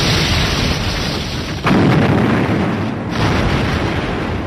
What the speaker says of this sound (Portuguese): Tudo o que se podia ver eram clarões e sons de torpedo atingindo os navios,